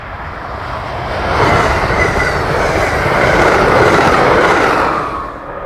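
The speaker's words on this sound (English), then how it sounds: "I end the day with train 665 glinting into the setting sun east of Mount Joy." An Amtrak Keystone Service train passes east of Mount Joy, swelling from a distant rumble to a loud, steady roar of wheels and rail noise, then easing away at the end.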